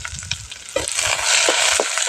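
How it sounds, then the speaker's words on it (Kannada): Whole spices and seeds hit hot oil for a sambar tempering: a few soft stirring knocks give way to a loud, steady sizzle and crackle, with occasional utensil taps. "ಕಾಳು ಒಗ್ಗರಣೆ ಮಾಡೋಕ್ಕೆ."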